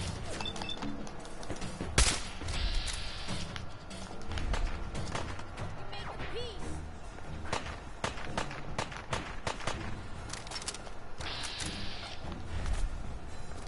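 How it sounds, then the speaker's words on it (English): Gunfire in the Fallout 4 video game, scattered sharp shots and bursts spread over busy game action with running footsteps, fairly close and steady in level. "Piper, what are you shooting at?"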